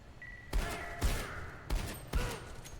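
Gunfire from the video game SiN Episodes Emergence: four loud, sharp shots spaced roughly half a second apart, each with a short ringing tail.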